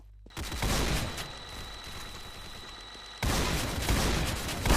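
A Soldier's weapon fires in the Roblox game Typical Colors 2, a loud, dense burst of gunfire that sets off after a short lull and surges again near the end, with no speech over it.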